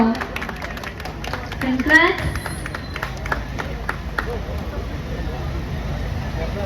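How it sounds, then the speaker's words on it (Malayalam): An audience clapping at a fan event, a steady patter of applause throughout with someone speaking over it. "നല്ലൊരു കയ്യടി കൊടുക്കാം കേട്ടോ."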